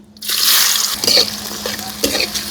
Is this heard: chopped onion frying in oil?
yes